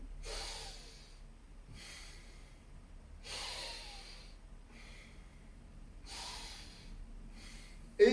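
Deep, slow breaths during a warm-up exercise routine, four long airy inhale-exhale cycles repeating steadily at close range with no talking, ending in a brief sharp sound.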